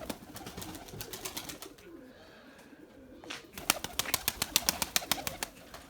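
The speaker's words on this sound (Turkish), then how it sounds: "Bakın kanat sesleri bu bunların arkadaşlar" Young white pigeon squabs beat their wings in rapid flurries, loud and close, with a quieter pause midway before a sharp burst of repeated flaps.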